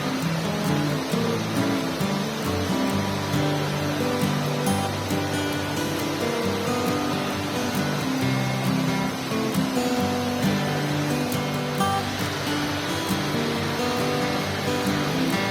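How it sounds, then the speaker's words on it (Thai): Water flowing in a stream alongside a trail through lush forest near a waterfall, a dense, continuous rushing wash that stays even and fairly loud throughout, with no voices. "ระหว่างทางเดินจะเป็นการเดินขนานกับลำธารไปเรื่อย ๆ ทำให้เราได้ยินเสียงน้ำไหลตลอดทางค่ะ"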